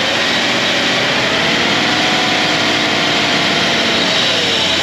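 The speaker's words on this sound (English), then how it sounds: "And then down at idle, misfire comes back." A BMW 530i 3.0 engine idles rough with a misfire, giving a loud, dense, continuous mechanical drone up close, with no talking.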